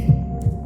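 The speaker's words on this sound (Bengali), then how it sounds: "নিস্তব্ধতা এতটাই যে নিজের হৃৎপিণ্ডের শব্দ পর্যন্ত শুনতে পাচ্ছি।" A heartbeat sound effect gives two low, soft thumps about a third of a second apart over a steady dull hum, close and isolated with no talk.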